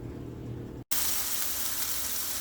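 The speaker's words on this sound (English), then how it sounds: "I wanted to share the sound of the sizzle" Foraged mushrooms sizzle in olive oil with an even hiss that briefly cuts out, then resumes slightly louder and brighter.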